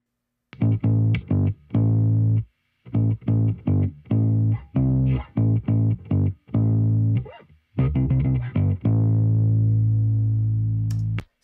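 Electric guitar processed with plugins to stand in for bass plays as a run of short, distorted, low plucked notes with small gaps between them, ending on one long sustained note, alone and fairly quiet.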